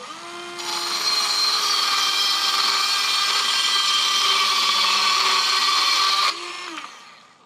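A small Makita cordless circular saw cutting through clamped wood: the motor spins up, holds a loud steady whining cut for about six seconds, then winds down.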